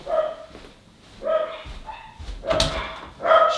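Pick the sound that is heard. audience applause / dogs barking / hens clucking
dogs barking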